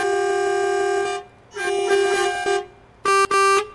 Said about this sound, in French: Je préfère le klaxon, original